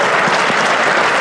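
Audience applause welcomes the Prime Minister at the Grey Cup, a dense, loud, continuous crowd clapping that fills the whole moment without pause.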